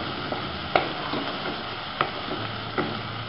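Ginger garlic paste sizzles steadily with onion in a hot pan for pav bhaji, with a few sharp clacks as a spoon stirs and scrapes the pan.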